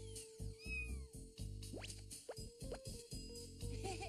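A cat meows several times in short, rising and falling cries, close by, with some soft bumps and background noise.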